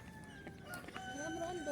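Chickens cluck softly and irregularly close by in a rural household setting, faint and low in level, with a few brief higher calls over a murmuring background.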